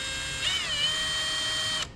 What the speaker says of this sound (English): And you want to drill these holes straight in.